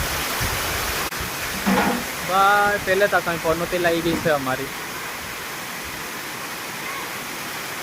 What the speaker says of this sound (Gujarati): ધીરે ધીરે વધતું જતું છે પાણી.